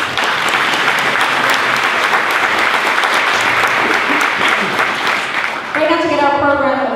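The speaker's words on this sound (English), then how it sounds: "15 years, I think that deserves a round of applause" Applause from an awards-ceremony audience fills the room, steady and dense for several seconds, then fades as a voice starts speaking over it at the end.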